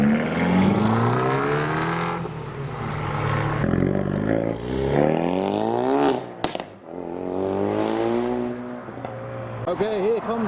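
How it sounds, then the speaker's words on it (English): Convoy of loud cars leaving a car show, led by a BMW M140i in Art Car livery, engines revving and accelerating past one after another with rising and falling pitch, a sharp crackle midway, voices talking underneath. "here comes the colourful convoy, starting with Luke's M140i in the BMW Art Car livery"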